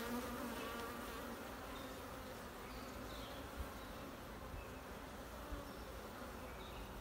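Honeybees swarm densely around an open, honey-heavy hive full of swarm cells, making a steady, close, unbroken buzz that holds at even loudness throughout with no voices.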